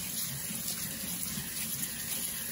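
Sweet rice being rinsed under a running kitchen tap, a steady close hiss of flowing water with no pauses or talking.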